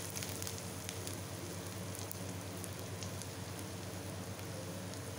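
Asafoetida and ginger sizzle in hot oil in a pan for a potato curry, giving a dense, steady crackling hiss with small pops that carries on evenly and close, with no talking.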